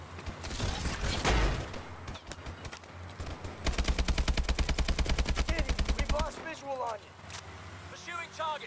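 Video game gunfire from Call of Duty Advanced Warfare: scattered shots, then a long rapid automatic burst, loud and close, with a vehicle rumble underneath and voices talking over it.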